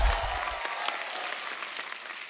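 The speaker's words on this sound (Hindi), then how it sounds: "एक बार जोरदार तालियां हो जाए।" Audience applause at a comedy show, a dense burst of clapping that starts loud and carries on steadily for a couple of seconds, with no voices over it.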